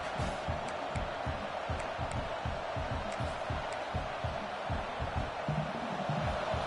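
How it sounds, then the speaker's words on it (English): Steady, loud crowd roar fills a college football stadium early in a game against FSU, a continuous wash of voices with a few sharper shouts rising near the end, and no single voice standing out. "Listen to the crowd energy here in the early going"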